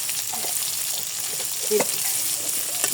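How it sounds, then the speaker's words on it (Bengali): Onions frying in oil with cardamom and cinnamon, an even close sizzle over three seconds with a couple of brief stirring knocks. "পেঁয়াজটা ভালো মতো ভেজে নেব"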